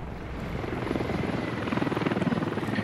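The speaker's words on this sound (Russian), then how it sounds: "Не, вертушка наша, не сбивайте." A helicopter in the Squad military video game drones steadily with a rapid rotor chop, loud and close, growing slightly stronger and more pulsing toward the end.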